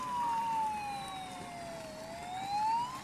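A toy siren from a small remote-control 1:28 marine rescue fire boat wails in a slow rising and falling sweep. It plays steadily and moderately loud over a low background rumble.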